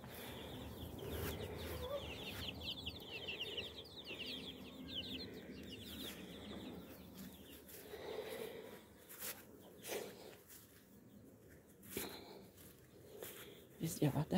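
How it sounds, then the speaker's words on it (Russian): Hens and young chicks in a farmyard cluck and peep continuously at moderate distance, with soft chirping throughout, some rustling and a few sharper noises near the end. "подливаю к цыплятам и курятам"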